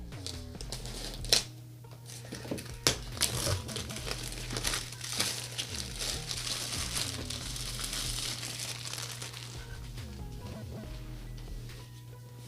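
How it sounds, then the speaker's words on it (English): A knife slices into the cardboard packaging of a 7RYMS AU02-K1 microphone, with close crinkling, scraping and a few sharp snaps over a steady low hum and no talking. "let me just make the first cut right here at the top"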